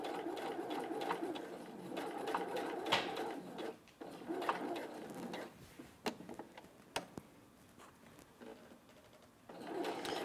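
A sewing machine stitches along the edge of a garment seam, running in uneven whirring bursts with light mechanical ticking and short pauses between runs, fairly close and with no talking.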